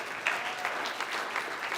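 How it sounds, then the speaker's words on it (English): Brief audience applause during a talk, a short burst of scattered clapping from a small crowd lasting under two seconds. "let's give them a hand"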